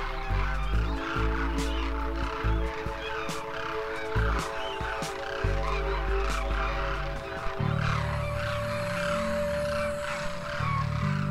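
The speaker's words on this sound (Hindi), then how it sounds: "लगातार करके पक्षियों के झुंड चुग्गा घर में आ रहे हैं दाना चुगने के लिए" A large flock of birds gathers at a feeding house where grain is scattered, giving dense overlapping calls, honks and squawks throughout, loud and close with a busy crowd of sound.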